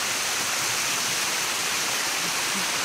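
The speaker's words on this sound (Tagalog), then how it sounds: "Bugtong Batu Waterfalls or this limestone waterfall?" Steady broadband rush of a natural limestone waterfall in Tibiao, Antique, a continuous close, even roar of falling water with no pauses and no voices.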